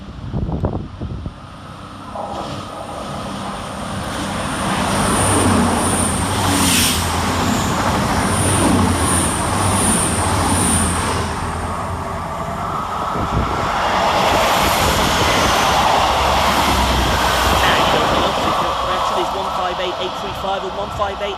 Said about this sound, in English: Next to power through the station is 220003 and 220031, working 1 Oscar 14 from Manchester Piccadilly to Reading via Coventry